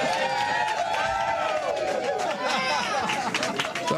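A crowd gathered at the new University of Redlands campus in Mission Valley, San Diego, fills the air with dense, overlapping chatter and babble, close and continuous, with individual voices rising out of the hubbub.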